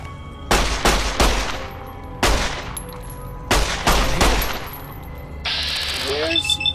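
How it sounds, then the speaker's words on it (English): A 9mm pistol firing in the video game Fallout: New Vegas, with several loud sharp shots in uneven bursts, a mechanical clatter near the end and no speech. "9mm pistol, go!"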